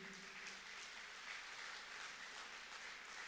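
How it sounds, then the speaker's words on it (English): A congregation at a youth prayer gathering claps their hands, a faint, even patter of applause that continues steadily from start to finish without speech. "Clap your hands once again."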